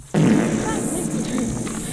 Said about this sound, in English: Did you fart